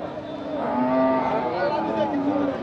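Cattle being fattened for sale, double-bodied animals at a livestock market, give a close, loud, drawn-out moo lasting a couple of seconds.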